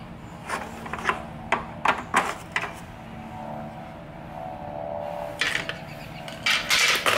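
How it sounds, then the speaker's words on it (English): Sharp plastic clicks and scraping taps from screwdrivers prying a tab on a Hoover Elite 700 upright vacuum cleaner, a scattered series of close, brief knocks with a quiet stretch between. "Might need two screwdrivers. Pry that tab."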